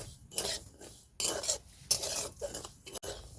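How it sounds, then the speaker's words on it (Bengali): Semolina stirred continuously while frying on a low flame, a spoon scraping across the pan bottom in quick repeated strokes, close and crisp, with a soft sizzle beneath. "সুজিটা সবসময় লাড়তে হবে না হয় নিচে লেগে যাবে"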